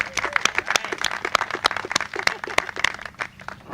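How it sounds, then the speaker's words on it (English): Scattered hand clapping from a small audience at a county housing celebration, a loose run of sharp claps spread across the whole stretch, moderately near and not very dense. "So how about a round of applause for that?"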